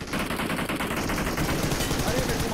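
Rapid, continuous automatic gunfire from the battle royale game BGMI rattles loud and close without pause.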